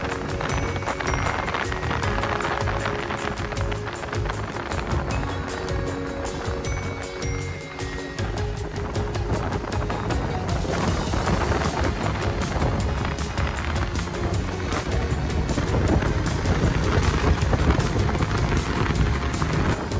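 A fast boat races across open water on the Grand River South East in Mauritius, producing a loud, steady engine and hull roar mixed with buffeting wind across the microphone.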